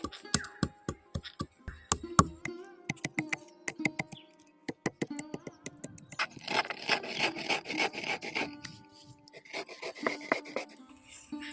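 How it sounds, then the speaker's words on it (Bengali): Chocolate pieces crushed by hand on a stone grinding slab (shil) for a village-style raw mango ice cream: sharp knocking taps at first, then steady rough scraping and grinding strokes, close and fairly loud. "এখানে এগুলো শিল একটু গুঁড়ো করে নিচ্ছি"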